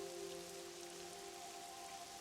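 Steady rain falling in the Pokémon Pokopia video game, a continuous even hiss with faint tonal hum from game music underneath, no voices.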